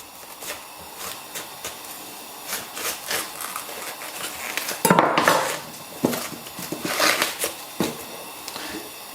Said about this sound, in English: get yourself around the stem and cut everything away